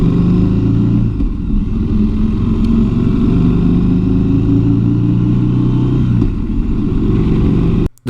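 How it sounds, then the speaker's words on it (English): A Triumph Thruxton R motorcycle engine through stock exhaust pipes hums steadily at cruising speed, a deep, smooth exhaust note with a brief dip near the end. "those stock pipes give a lovely soundtrack to accompany your ride"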